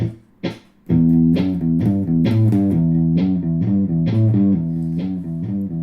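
Looper pedal playing a layered overdub on a recorded loop: after two brief plucked notes and a short gap, sustained harmonic tones with a steady repeating rhythm fill the rest, loud and close, with no talking.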